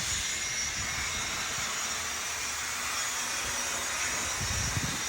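Union Pacific GTEL 8500 HP model train running at full throttle, a steady broadband hiss and whir with a faint low rumble that holds constant throughout, fairly close and uninterrupted.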